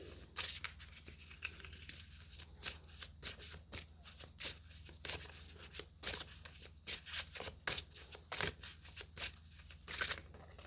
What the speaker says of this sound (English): Again, I just have to take one of these cards.